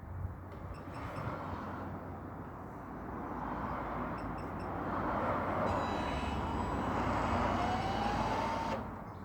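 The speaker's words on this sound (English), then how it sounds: "that is the motor mover engaged and disengaged from the wheel with the forward and back" A caravan motor mover on a Swift Vogue 480 whirs steadily as it engages and disengages from the wheel, a rough mechanical drone with a thin rising whine near the end before cutting off.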